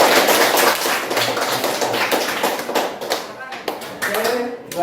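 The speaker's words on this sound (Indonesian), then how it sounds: "marilah kita memberikan aplaus untuk setiap kelompok" Classroom applause for student groups after their presentations, a dense stretch of many hands clapping at close range that thins out toward the end, with some talk mixed in.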